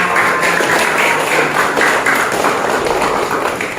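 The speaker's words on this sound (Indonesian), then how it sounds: "Iya, tepuk tangan." A classroom of children clapping their hands together, a loud, dense burst of rapid overlapping claps that continues steadily for several seconds with no speech.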